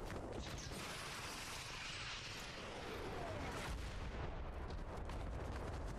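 Airstrike explosions tear through a Fortnite match, a dense, continuous roar of blasts and crashing debris filling the whole stretch at close range, with no pause between impacts.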